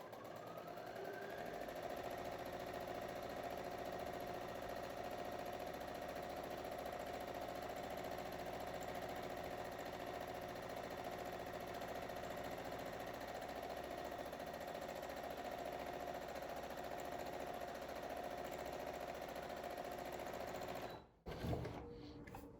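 A sewing machine set up for quilting runs at speed with a loud, steady mechanical whirr close by, continuing almost unbroken before stopping abruptly near the end.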